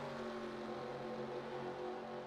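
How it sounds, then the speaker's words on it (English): An idling race car engine in the Fortnite racing video game gives a steady, unbroken harmonic drone with a low rumble throughout, fairly even in loudness and with no voices over it. "I think I'm hearing an idling engine up ahead"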